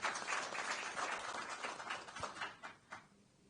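An audience gathered for a political speech by an Indian minister in Congo claps, giving a soft, diffuse patter of many hands. The clapping thins and fades toward the end.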